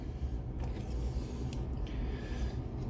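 A Transformers Studio Series 2007 Voyager Bonecrusher toy figure is moved, giving a few short, faint plastic squeaks and creaks over a steady low background hum.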